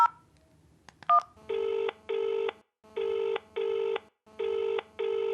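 A telephone number is dialed on a keypad, giving six evenly spaced touch-tone beeps in three pairs, clear and close, after a brief click.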